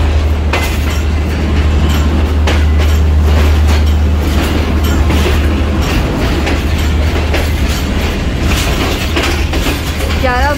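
The Awam Express passenger train departs the Rawalpindi station platform on its way from Peshawar to Karachi. A loud, steady rumble is heard from on board, with rhythmic wheel clatter, brief wheel squeals and a low engine hum.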